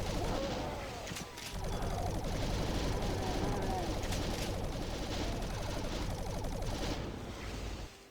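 Plasma gun firing in a Doom Sigil level, a dense rapid stream of buzzy energy shots running nearly continuously for about eight seconds at steady loud level, with game effects layered in.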